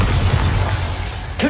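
A Bombarda spell blast in Hogwarts Legacy lands as a shattering, crashing burst over a low rumbling battle background, with a sharp flare at the end.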